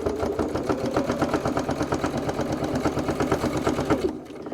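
A sewing machine stitches a wallet in a rapid, even run of mechanical thumps, loud and close, then stops abruptly near the end.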